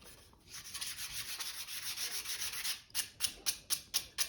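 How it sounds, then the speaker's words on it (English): Wood being sanded by hand with sandpaper on a barn box project: a steady continuous rasp for a couple of seconds, then six or seven short rhythmic strokes, fairly close and loud, with no talking. "And I would come over with the sandpaper again once it gets dry."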